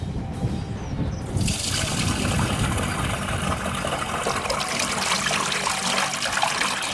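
A toilet flushes and water rushes down the drain pipe, a loud, steady, broadband wash that surges in after a quieter first second and carries on close by without a break.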